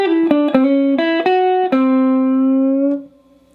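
A blues guitar lick played alone, a short run of clear picked notes ending on a sustained bent note that rings out for over a second before it is cut off.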